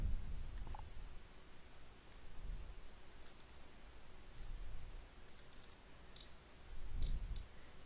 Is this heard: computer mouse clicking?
yes